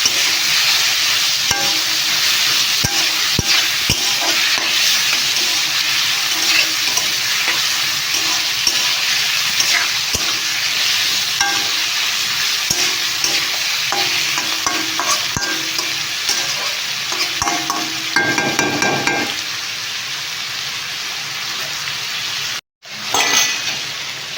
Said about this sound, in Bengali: এখন ভালো করে নাড়াচাড়া করে ঢেকে দেবো